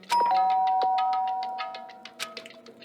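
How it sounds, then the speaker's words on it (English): A doorbell pressed at a door in the video game Danganronpa, a clear electronic chime ringing out with a sustained tone followed by a quick run of bright, evenly spaced ding notes that fade toward the end. "Byakuya stood in front of her door, not making a sound, and pressed the doorbell."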